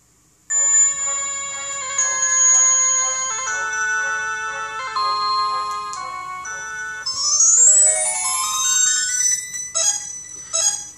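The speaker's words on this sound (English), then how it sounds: "The infamous Capcom boot up sound." Capcom startup jingle from the Aladdin video game, a bright chiming melody of sustained tones followed by a rising sparkling sweep, playing clearly on its own.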